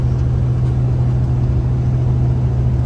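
A 560-horsepower Western Star truck with an automatic transmission slowly shifting through its low gears, heard from inside as a steady loud low engine drone and rumble without break.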